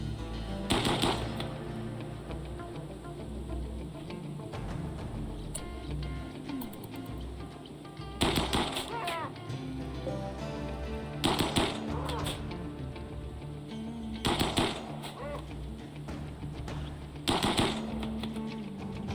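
An assault rifle in the video game Rimworld fires on a raider in several sharp bursts spaced a few seconds apart, loud against a quieter background.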